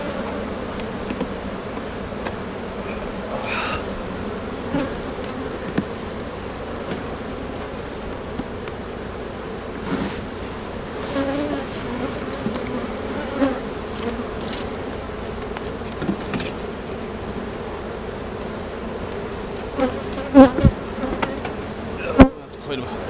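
Honeybees buzz steadily at an open hive from a strong colony that has swarmed, with many capped queen cells and honey in the frames; a continuous close, dense drone with small bumps of movement near the end.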